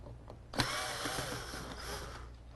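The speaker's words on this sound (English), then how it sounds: "I'm going to take a Phillips bit. Get those 2 screws out." Cordless drill with a Phillips bit spins out screws from a seat side panel in a 1995–1999 Chevy/GMC Tahoe, Suburban or pickup: a faint whirring burst of about two seconds after a soft click, close by.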